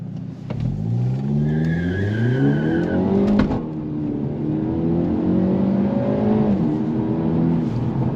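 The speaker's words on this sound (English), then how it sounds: "we are going to be going 55 miles an hour and then avoiding the cones and then coming to a complete stop" A Hyundai accelerates hard to about 55 mph on a cone course at Sonoma Raceway. The engine note climbs steadily and sustains loudly throughout, with a brief tire squeal early and a sharp thump midway.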